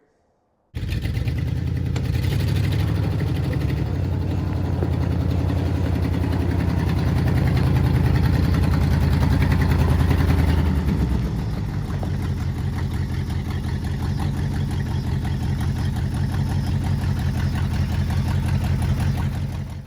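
A 1966 Jeep Gladiator engine with leaking exhaust manifold gaskets and no oil pressure runs steadily nearby, a loud low throbbing idle with a rough, uneven rumble that continues throughout.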